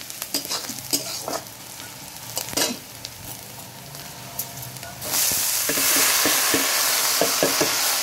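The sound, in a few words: onion frying with bottle gourd peel in a pan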